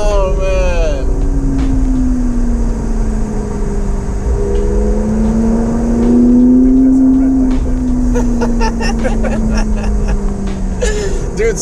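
A convertible car driving on an open road, its engine note loud and close, rising and falling smoothly as it accelerates and shifts, over a constant roar of wind and road noise.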